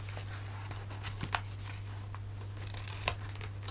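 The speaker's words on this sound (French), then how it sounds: "J'ai du mal couper là parce que ça dépasse." Scissors cutting through paper or card while a small gift box is being assembled, a faint, sparse snipping with a couple of sharper cuts over a steady low hum, no talking.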